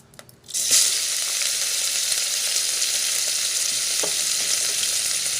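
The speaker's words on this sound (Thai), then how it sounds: "ใส่กระเทียมหัวหอมโขลกปนกับพริกไทยนะครับลงไปผัดเลย" Pork belly hits hot oil with pounded garlic, shallot and pepper for a Thai stir-fry, bursting into a loud, close, continuous sizzle and crackle with occasional stirring scrapes.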